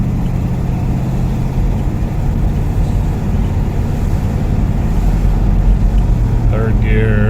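An old Pontiac LeMans with a freshly rebuilt TH350 automatic transmission accelerates in second gear on a road test, producing a steady, close engine drone with road noise; a brief voice-like sound appears near the end.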